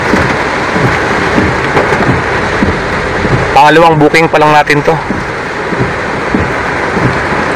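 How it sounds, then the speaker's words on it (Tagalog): Heavy rain drumming steadily on a car during a ride in the Philippines, loud and constant, with someone speaking over it for a few seconds midway. "Ang lakas ng ulan."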